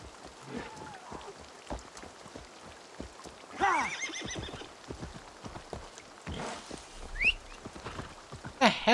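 A horse in Assassin's Creed Valhalla lets out a clear whinny partway through, over a soft patter of rain and scattered hoof clops, with a few brief quieter calls later.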